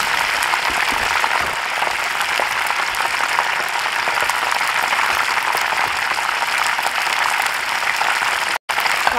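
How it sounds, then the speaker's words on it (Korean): Continuous dense crackling and hissing of fish pieces deep-frying in hot oil at high heat, steady and loud throughout with no voices. "약간 고온으로 생나게 튀겨주세요."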